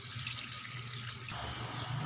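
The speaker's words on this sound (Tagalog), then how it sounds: "hugasan muna natin yung talbos ng bayabas bago natin ilaga" Guava leaf shoots are washed under a running kitchen tap, a steady close splash of water into a sink that shifts tone partway as the leaves move in the stream.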